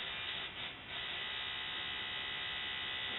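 An electric fuel pump on a 1949 Willys hums steadily and faintly, a constant buzzing drone with a brief dip near the start and no voices.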